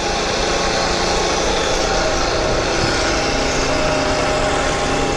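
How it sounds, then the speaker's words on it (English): A vertical milling machine center drills into steel, giving a steady, loud, continuous whir with a faint high tone running through it and no talk. "We're gonna center drill, drill, and then tap"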